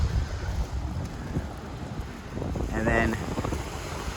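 Wind buffets the microphone while Atlantic Ocean waves wash ashore at Fort Lauderdale Beach, a continuous rough rushing with swelling surges, close and fairly loud, as someone speaks briefly over it.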